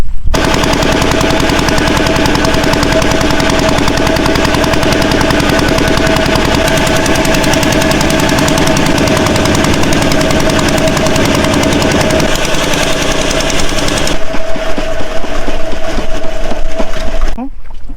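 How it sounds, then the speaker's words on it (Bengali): A motor boat's engine chugs loudly and continuously in a rapid, hammering rhythm on a Sundarbans island crossing in the rain, then cuts out near the end. "এখন নৌকায় উঠে পড়েছি আর নৌকাটা কিন্তু এখনই ছেড়ে দিবে"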